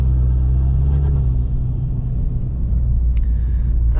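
A tuned VW Golf R heard from inside while drifting in a snowy blizzard, a deep low engine rumble that dips briefly then swells again, with a short sharp click near the end.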